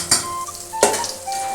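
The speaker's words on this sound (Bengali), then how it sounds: "দুটো করে ভাজছি" Jute leaf fritters fry two at a time in hot oil: a soft sizzle runs underneath two sharp metallic clinks of a utensil against the pan, close and moderately loud.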